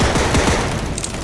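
Rapid burst of gunfire in the video game Cactus Cowboy Plants at War, several quick shots in a close, loud cluster with a faint tail.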